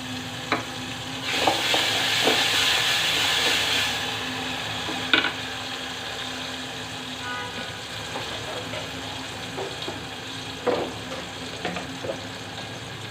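Garlic and ginger paste frying with fried onions in a pan for mixed-fish paturi, a steady close sizzle with occasional spoon scrapes and clinks, and light speech now and then beneath it.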